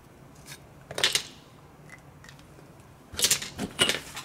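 Strengtheners for a scratch-built model cattle dock are cut with scissors or a blade in two short bursts of crisp snipping and scraping, one near the first second and a longer cluster near the end, with quiet gaps between.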